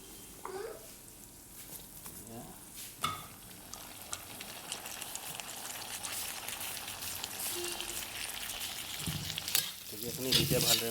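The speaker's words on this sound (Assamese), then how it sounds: "তাৰপিছত এতিয়া ঢেকীয়াখিনি দি দিম।" Dhekia fern greens tossed into pork frying in a kadai, giving a loud, continuous sizzle with stirring scrapes and crackles that grow busier toward the end.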